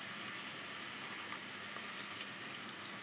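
Curry leaves, cumin and mustard seeds hit hot oil, making a bright, steady crackling sizzle with scattered small pops close by.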